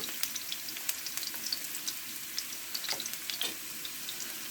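Ginger and garlic frying in hot oil, while spicy honey chicken is made with South Indian spices: a soft continuous sizzle with scattered crackles and pops, close and fairly quiet, no voices.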